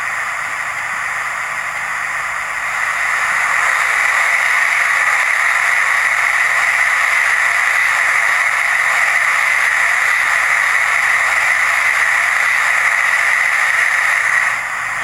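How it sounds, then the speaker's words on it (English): Sustained hiss of a boiler blowdown sound effect from a Hornby BR Lord Nelson Class model steam locomotive, a steady static-like rush that swells after a couple of seconds and holds loud and even before cutting off. "Function 8 is the blowdown"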